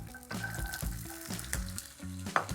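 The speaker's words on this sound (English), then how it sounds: "Nice little sizzle there." Chickpeas sizzling in hot oil, a busy crackle layered over low tonal hum and occasional clattering, close and fairly loud.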